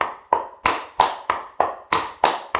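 Heavy, clumpy tap steps strike the floor in a steady rhythm, about eight loud thuds with ringing decay, close by and with no voices.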